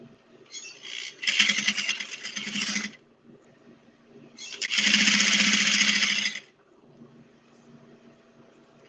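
A sewing machine runs a chain stitch on a tote bag in two steady whirring bursts of about two seconds each, separated by a short pause with light handling noise and no talk.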